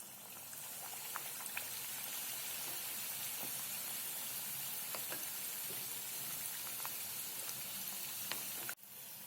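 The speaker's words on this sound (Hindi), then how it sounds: "दूसरी बाजू तल लेंगे।" Aloo vada sizzles steadily in hot oil in a kadhai, a continuous close crackling fry with small pops throughout and a brief clatter near the end.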